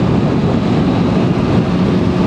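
A loud, steady CB motorcycle engine drone with heavy wind rush, riding at speed on the NLEX expressway, constant throughout with no voices.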